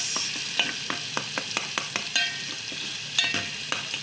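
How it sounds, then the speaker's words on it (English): Sweet potato and spinach soup with tomatoes and turmeric stirred in a pot, a run of sharp, evenly spaced spoon clicks and scrapes against the pot over a low simmering hiss, close and clear with no talk. "So I'm just going to add the spinach, and then continue stirring."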